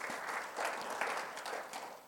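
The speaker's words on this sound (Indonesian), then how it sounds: "Boleh tepuk tangan bagi Tuhan Yesus." A church congregation claps during a Sunday worship service, a dense wash of steady applause lasting a couple of seconds with small swells, moderately loud and without talk over it.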